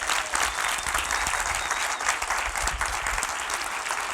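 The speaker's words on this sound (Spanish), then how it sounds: "Denle un aplauso a Cristo." A church congregation breaks into sustained applause during a sermon, dense and even clapping carrying steadily from start to finish, fairly loud and unaccompanied by speech.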